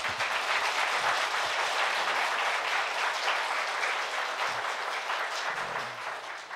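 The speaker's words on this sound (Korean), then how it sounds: "박수 한번 쳐주시기 바랍니다" A congregation at a Korean Sunday worship service claps for visiting pastors and seminarians, a sustained, even wash of many hands that fades slightly at the close.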